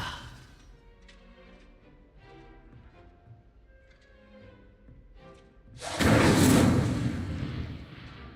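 An Incendio fire spell is cast in Hogwarts Legacy, and a loud whooshing roar of flame bursts out and sustains for about two seconds after a quieter stretch of faint game ambience.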